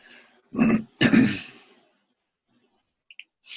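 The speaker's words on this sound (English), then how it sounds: "I was just clearing my throat" Two short, rough throat clearings in quick succession, fairly close, followed by silence and a couple of faint clicks.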